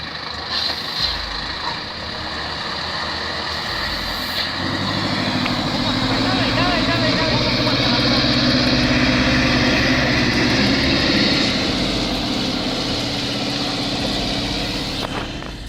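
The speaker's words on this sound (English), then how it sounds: "The IFA W50's water crossing abilities are second to none." An IFA W50 truck ploughs through a water crossing, its heavy engine roaring steadily and swelling louder toward the middle amid sloshing noise, with a brief clatter near the start.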